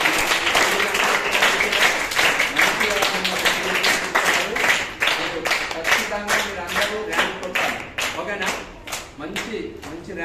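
Schoolchildren at a Navodaya model exam event at Armoor Lilliput school applauding together: dense, sustained clapping close by that thins toward the end, with voices mixed in.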